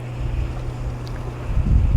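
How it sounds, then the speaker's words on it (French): Outdoors, wind buffets the microphone in low, uneven rumbling gusts that swell louder toward the end, with no speech. "que le bruit du vent n'est pas trop fort"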